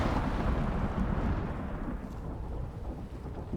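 Lightning strike hitting a base in a survival video game during a woodland storm, a loud sustained rumbling boom with deep thunder-like roll that slowly fades, no talk.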